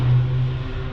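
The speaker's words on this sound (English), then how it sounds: "Loud car in the background, huh?" A car revving loudly in the background during knock sensor replacement on a 2002 Toyota Highlander, a steady low engine rumble through the whole second with a slightly louder swell near the start.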